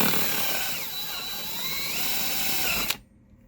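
Step drill boring out an oval hole to 3/4 inch while fitting a Cannon downrigger power cable kit, a steady loud whine with rising and falling pitch that runs for about three seconds, then cuts off abruptly.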